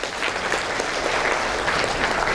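Audience applause at a business gathering in Tawau, Sabah, a dense and even wash of many hands clapping together, steady and fairly loud for the whole stretch with no one speaking.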